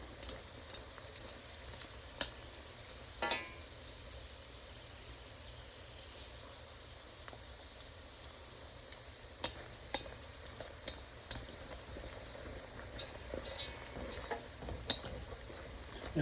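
Garlic sizzles quietly in a pan over medium heat, a soft constant hiss broken by occasional scrapes and taps of stirring.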